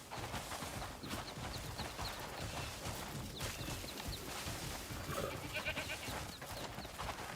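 Video game goats bleat repeatedly over a dense, busy background of farm ambience in Crimson Desert, with faint clip-clop and bird sounds mixed in.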